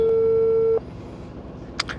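A steady telephone tone rings for under a second and then cuts off, leaving faint room noise and a brief muffled click near the end, with no talking.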